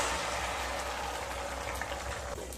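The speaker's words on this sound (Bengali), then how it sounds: "তেলটা গরম হয়ে গেলে এবার ডিমগুলোকে দিয়ে দেবো" Eggs dropped into about two spoonfuls of hot white oil in a pan, giving a steady, dense sizzle and bubbling crackle that runs evenly throughout at close range with no voices.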